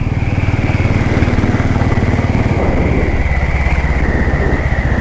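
A Royal Enfield Classic 500 Desert Storm single-cylinder motorcycle runs with the throttle opened. Its loud, close engine thumps in a rapid, steady pulse throughout, with no talking.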